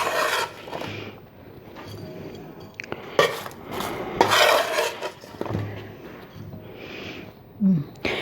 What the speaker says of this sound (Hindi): मैं अभी इसमें शीशे के बर्तन में डाल लेती हूँ।